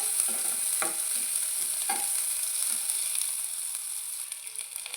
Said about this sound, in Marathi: कांदा मस्त मिक्स करून घ्यायचा आणि लालसर होईपर्यंत भाजून घ्यायचा